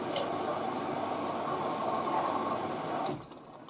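Water rushing into an LG DirectDrive F1496AD washer dryer during a 95°C cottons cycle. It is a steady, soft hiss of inflow that cuts off abruptly near the end, with no voices.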